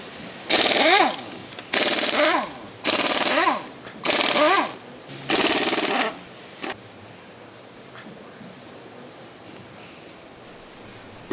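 A pneumatic power tool removes the front wheel of an Audi Allroad Quattro in five loud, rattling bursts of about a second each, pitch dipping and rising, followed by several seconds of quiet shop ambience.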